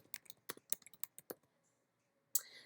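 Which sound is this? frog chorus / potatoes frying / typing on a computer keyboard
typing on a computer keyboard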